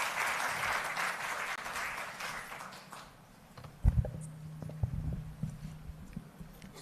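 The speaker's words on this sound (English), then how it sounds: "Big round of applause." Applause for the CEO of the Council for the Built Environment, introduced as a keynote speaker at the African Forum on Urban Forests, rising as a broad crowd sound that fades midway, then returns more thinly while a low voice speaks over it.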